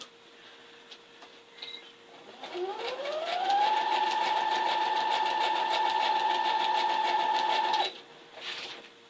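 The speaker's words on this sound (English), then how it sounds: "I'm going to take it to the sewing machine and I'm going to sew her down." A sewing machine winds up and runs steadily for several seconds with a rapid mechanical stitching rhythm, then stops abruptly.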